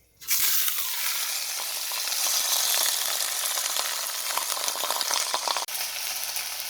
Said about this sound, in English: if it sizzles nice and aggressive, then it's time to put the meat in